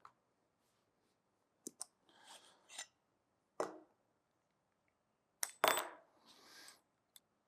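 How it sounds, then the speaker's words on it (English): T6 Torx screws being removed from the back cover of an Acer TravelMate P4 Spin 14 laptop, sparse sharp metallic clicks and small scraping rattles separated by quiet gaps, close and faint overall. "Yep, T6 Torx head on 10 screws to take off this back cover."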